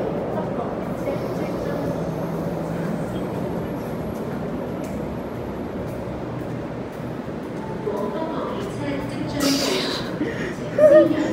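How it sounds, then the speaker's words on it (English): Train passing by on a Hong Kong rail line between Sheung Shui and Chai Wan, a constant rumbling roar at moderate distance, swelling slightly near the end, with a voice heard briefly. "there goes that train."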